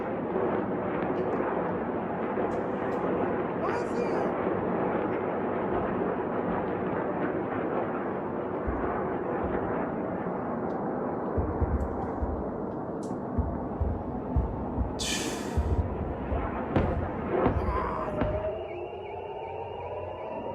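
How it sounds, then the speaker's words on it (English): Iranian missiles are intercepted over Israel, heard as a continuous distant roar with scattered low rumbling booms and thuds building in the later seconds, with no voices over it. "watching rockets be intercepted"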